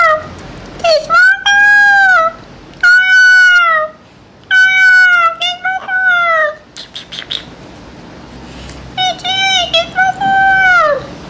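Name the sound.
cat meowing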